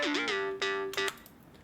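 A bright electronic synth lead from a remake plays a few sustained notes that slide smoothly between pitches with portamento glide, each note with a sharp attack, loud and alone.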